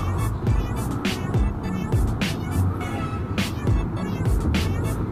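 A Kymco X-Town scooter is ridden along a highway, carrying steady engine and road noise with wind buffeting in periodic gusts, and a voice can be heard faintly under the noise.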